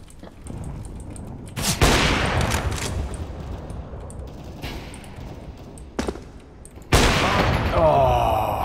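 Gunfire in the video game CSGO, including a sniper rifle: several loud sharp shots crack out at intervals over a background of game noise, with a groaning voice in between.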